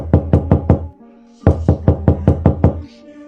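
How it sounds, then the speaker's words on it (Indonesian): Knocking on a bedroom door at night: a quick burst of four sharp raps, a short pause, then a longer run of about seven more loud, close knocks. "Coba dengar, ada yang mengetuk pintu tuh, kata Zeki memberitahu Pras dan Sultan."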